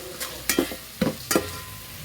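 Coriander, ginger-garlic paste and mint fry in a pan for bagara rice, giving a soft sizzle broken by a few quick stirring scrapes and taps, close by, with no talking.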